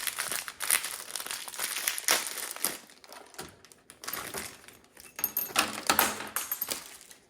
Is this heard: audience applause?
no